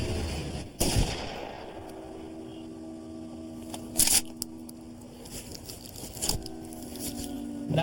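A trooper's gun fires to put down a moose by a roadside in Alaska. Sharp, fairly distant cracks sound about three seconds apart over a low outdoor hum, with a fainter crack following later.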